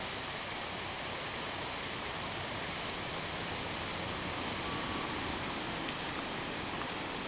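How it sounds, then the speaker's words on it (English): Rushing mountain waterfall in Ireland, a steady broadband roar of falling water filling the scene continuously at an even level, with no voices. "This is gorgeous mountain fall. Waterfall, I guess."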